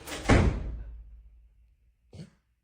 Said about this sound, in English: If you're gonna come in, at least close the door.